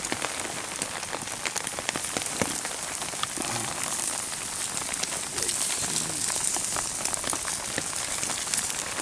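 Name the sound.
rain falling on surfaces while camping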